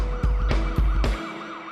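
A police car siren wails in rising and falling sweeps over a vehicle's rumble, punctuated by several heavy thumps at a steady beat, on a narrow road behind a slow lorry.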